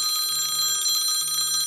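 An Arlo video doorbell chime rings steadily with bright, sustained high tones, repeating in a looping pattern with no pauses for its full length.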